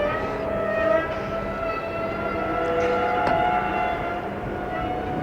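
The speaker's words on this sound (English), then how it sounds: "Sorry about the squeaky brakes on the train." A train rolls past with sustained high squealing brakes, several steady shrill tones ringing over a continuous rumble that stays loud throughout, outdoors during a storm chase in Whyalla.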